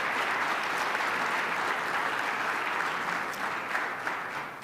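A crowd at an evening technology awards ceremony gives a full round of applause for a list of honorees, dense even clapping from the outset that tapers off slightly at the end, with no speech over it.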